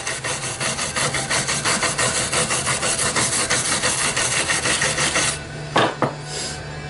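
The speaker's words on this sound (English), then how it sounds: "Get all that dirt and rust out of the grooves." A metal file being scrubbed to clear dirt and rust from its grooves, a steady rhythmic rasping of quick back-and-forth strokes that runs close and loud for about five seconds, then a couple of sharper scrapes before it stops.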